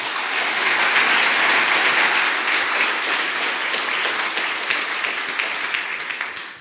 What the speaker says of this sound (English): Give a warm welcome applause to Sebastian.